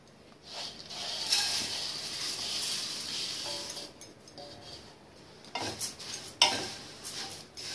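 Flattened rice (chuda) dry-roasting in a pan on a gas stove, with rustling grains, scraping stirs and occasional metallic clinks of the spoon against the pan, uneven in loudness and free of speech.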